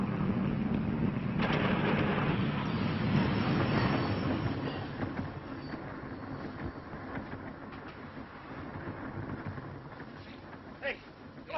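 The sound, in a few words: moving train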